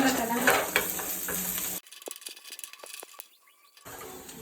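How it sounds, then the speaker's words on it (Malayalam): Pappadam frying in oil in a wok, a dense crackling sizzle that breaks off abruptly partway through, leaving a few faint clicks and taps before the hiss returns. "അതിങ്ങനെ വറുത്തോണ്ടിരിക്കുന്നു."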